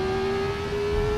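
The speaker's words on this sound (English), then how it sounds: "This is the raw Ford Cosworth V8." The Ford Cosworth V8 of a 1970s Formula 1 car in Assetto Corsa at full throttle, a loud steady high-pitched engine howl held briefly and close.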